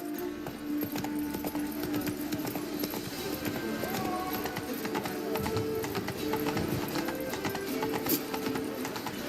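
Roach the horse from the video game Witcher 3 gallops with steady, loud hoofbeat clip-clops and a brief whinny, set against constant game music and ambience.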